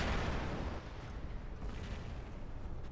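Aphid missile volleys fire from a Rhino robot in the War Robots battle game, a dense rumbling barrage of booms that starts heavy and thins slightly, with no voices.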